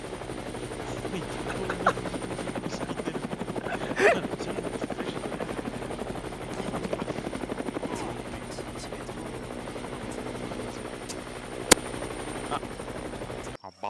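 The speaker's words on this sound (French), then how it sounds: "il y a un hélicoptère de combat là-bas" Combat helicopter in a video game, a steady rotor chop running throughout at moderate level, joined by brief bursts of gunfire, with people talking over it.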